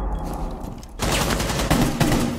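Rapid bursts of gunfire in Rainbow Six Siege in quick succession, dense and punchy, with a short lull before the shooting intensifies.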